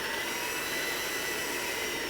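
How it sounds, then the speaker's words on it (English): An electric hand mixer beating sugar into butter on medium speed, a steady dense whirring drone with no break, close and fairly loud. "you're going to use a hand mixer"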